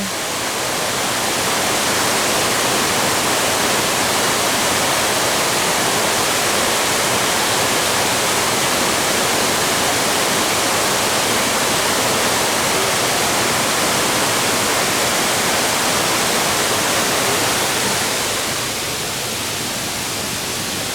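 Fuller Waterfalls in Kintampo, Ghana, roar with a dense, constant rush of falling water, loud and close, easing slightly near the end.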